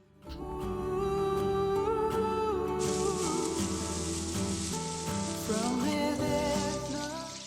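Onions and ham fry steadily in a pan with a continuous, even sizzle. Kitchen music plays prominently over the sizzling the whole time.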